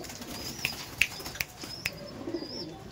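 Pigeons give soft, faint coos with a few light wing flutters and taps close by, brief and scattered over a quiet background.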